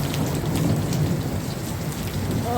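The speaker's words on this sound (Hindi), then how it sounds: "बारिश होनी शुरू हो गई है, मूसलाधार बारिश।" Torrential rain pours down in Nainital with thunder rumbling beneath it, a loud, continuous roar of heavy drops over a deep, rolling low growl, with no voices.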